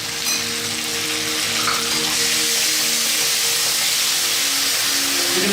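Prawns being sautéed with ketchup, oyster sauce and chili paste for a Sri Lankan devilled prawn stir fry, giving a steady, close, continuous sizzle and hiss with no talking.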